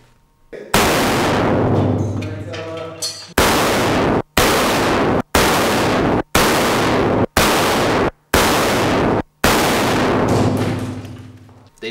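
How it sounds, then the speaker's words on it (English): A shotgun loaded with birdshot is fired at goggles, seven loud, sharp blasts spaced about a second apart, each with a decaying tail, and no voices over them. "This time we're not using airsoft to shoot at the goggles, but we're using birdshot."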